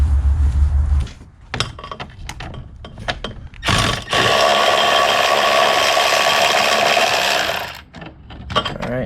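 Ratchet loosening a 13 mm transmission hold-down bolt on a VW GTI with a DSG gearbox, heard as close, quick clicking bursts followed by a long steady rattling stretch and a few final clicks.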